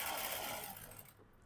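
Sewing machine running steadily while stitching the hook strip and buttonhole strip of a blouse, a continuous close whir that eases slightly toward the end.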